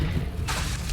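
A Confringo fire spell from Hogwarts Legacy bursts with a loud, close blast that begins halfway through and swells into a broad rumbling roar over continuous low game noise.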